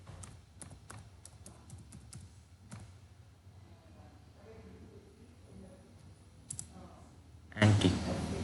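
Keys clatter on a computer keyboard as a channel name is typed, a run of light irregular clicks close by over a quiet hum, ending in a louder burst of handling noise.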